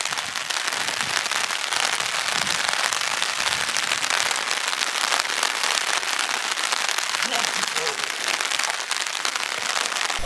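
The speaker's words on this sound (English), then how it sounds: "Hey guys, just walking in the rain." Steady rain falls all around while walking outdoors at Ghibli Park in Aichi, Japan, a dense, even hiss that holds loud and constant throughout, with faint low voices and footstep thuds underneath.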